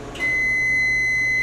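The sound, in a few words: microwave oven beeping when finished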